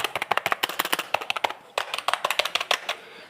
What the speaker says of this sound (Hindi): आप इसकी साउंड भी सुन सकते हैं।